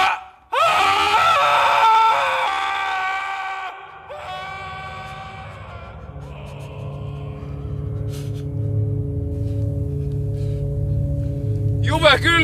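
A person lets out a loud, sustained scream near the start, then goes quiet while a lower droning tone holds for several seconds, with a sharp burst at the end; other voices are present.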